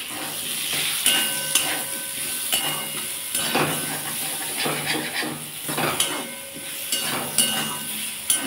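Raw mango sour with mustard and chili powder sautéing in a pan, a steady close sizzle and hiss broken by repeated scrapes and clinks of stirring.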